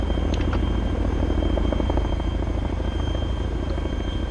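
Steady, heavy rotor drone of a helicopter in the video game ArmA 3 fills the whole stretch, loud and close, with faint chatter barely surfacing underneath.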